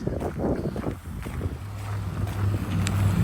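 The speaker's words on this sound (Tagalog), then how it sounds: "windy siya ngayon mahangin" Steady, roaring wind gusts across an open, snowy space in freezing winter weather after a storm, a broad rushing noise with low rumbling buffeting against the microphone throughout.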